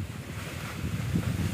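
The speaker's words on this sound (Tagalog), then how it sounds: "Ang ganda ng dagat oh." Sea waves at a beach, a steady low rumble of surf with wind noise buffeting the microphone, continuous and fairly close, no one talking.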